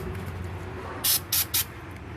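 Three short bursts of aerosol rust remover sprayed onto a rusty rear wheel bearing of a 2013 Chevy Malibu, quick hissing puffs in close succession over a quiet background.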